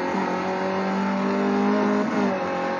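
A race car in the HSR racing video game at Outlon Park accelerates hard, its engine holding a loud, steady, high-pitched whine throughout with no talking.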